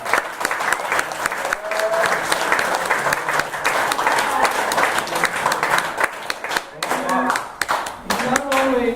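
Sustained applause from an audience fills the room at a coach's speech about a student athlete, steady and dense throughout, with a few voices rising near the end.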